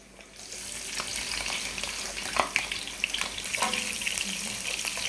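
Onion goes into red palm oil in a pot, giving a bright, continuous frying hiss that swells after a quiet start, with a few clinks and stirring knocks near by.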